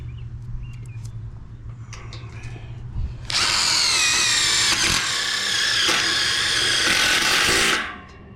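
A power drill runs hot while building trusses, whirring loud and steady for about four seconds before winding down, with lighter shop noises and faint bird chirps beforehand.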